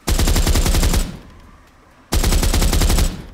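Automatic gunfire from a multiplayer first-person shooter video game: two loud, rapid bursts of shots, the first about a second long and the second after a short pause, with no voices.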